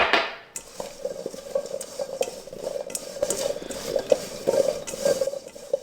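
Food being stirred and tossed with Cajun fry seasoning in a bowl, with repeated scraping and clinking of a utensil against the dish at a steady, close, moderate level, and no talking.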